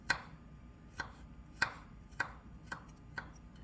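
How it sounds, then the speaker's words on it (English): Garlic minced finely with a knife on a cutting board, six crisp close chops at an unhurried, fairly even pace. "you're going to have to mince garlic. I'm sorry. You're going to have to chop it up nice and fine."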